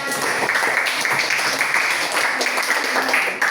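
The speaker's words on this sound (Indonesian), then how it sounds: "Oke, tepuk tangan." Steady applause from a crowd, dense continuous clapping at even loudness throughout.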